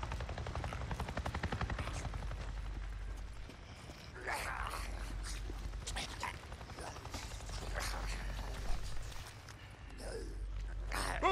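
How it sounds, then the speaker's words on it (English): Helicopter from the video game Days Gone passing overhead, a steady loud rotor drone with heavy low rumble throughout, swelling and thinning as it buzzes over, with scattered game effects on top. "I just saw a goddamn chopper! A chopper? What are you talking about? A Nero chopper! It just buzzed right over me"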